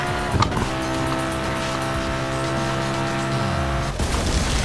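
A car in the Burnout Paradise racing game roars with a loud, droning engine, then hits a station wagon with a heavy crunching impact near the end.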